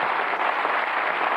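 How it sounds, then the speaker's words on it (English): Studio audience applauding on a 1990s British TV game show, a short, even burst of clapping from the whole crowd heard on its own without speech. "A round of applause, I think,"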